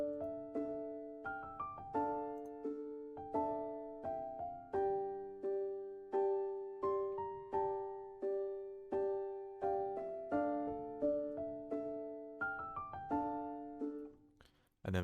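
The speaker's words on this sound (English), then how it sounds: "a counter melody here, which is from Omnisphere." UK rap beat built around a plucked Omnisphere counter melody, repeating short decaying notes in a steady rhythmic pattern with a low bass pulse underneath, moderately quiet and alone.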